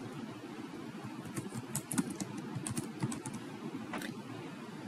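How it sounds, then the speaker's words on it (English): Soft, quick keystrokes on a computer keyboard as a question is typed, an irregular patter of close, quiet clicks running steadily throughout with no talk. "I type the question that I want."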